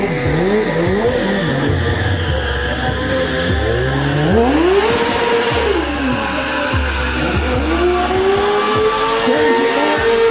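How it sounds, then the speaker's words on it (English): A sport bike drifting in a stunt show without using the front brake screams through repeated engine revs with squealing tyre slides, loud and close, rising and falling in waves. "the newest thing in sport bikes is drifting, and there's no front brakes being used"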